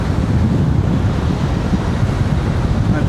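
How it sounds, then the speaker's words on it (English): Strong wind buffets the microphone on Blackpool's seafront, a steady, loud roar with surf churning beneath it for about three seconds, with no voices. "So, wind picks up again. Really strong here."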